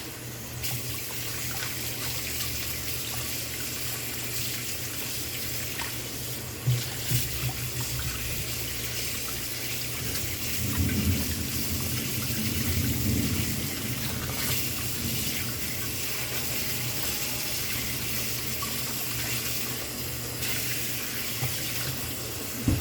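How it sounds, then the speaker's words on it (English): A kitchen tap runs steadily while Irish potatoes are washed under the stream in a sink, a continuous loud rush of water with brief splashes and shifts as the potatoes are handled, and no talking. "And then I'll be washing my Irish potato."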